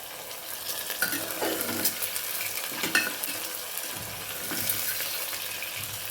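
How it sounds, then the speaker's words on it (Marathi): Three eggs sautéing with onions in a hot pan make a steady close sizzle, with the spatula scraping and stirring in several distinct strokes throughout. "ह्या कांद्यासोबतच आपल्याला ही तीन अंडी ह्याच्यामध्ये टाकून द्यायच्यात म्हणजे ती पण परतले जातील छान"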